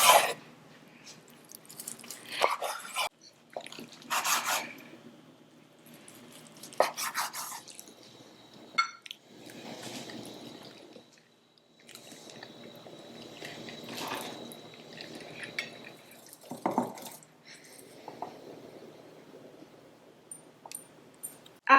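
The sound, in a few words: knife slicing oven-baked pork ribs between the bones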